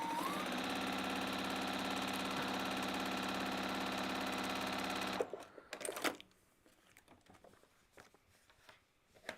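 Sewing machine stitching X-Cluded, a loud steady mechanical whir running for about five seconds before stopping abruptly, followed by faint clicks and handling noise.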